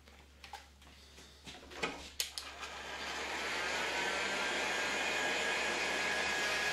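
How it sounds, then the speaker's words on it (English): A heat gun blows hot air onto an RC truck body wrap, starting after a few light handling clicks and settling into a steady, hissing whoosh that holds close and even to the end. "just hit it with the heat gun"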